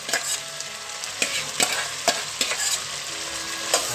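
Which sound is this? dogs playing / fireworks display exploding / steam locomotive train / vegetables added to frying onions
vegetables added to frying onions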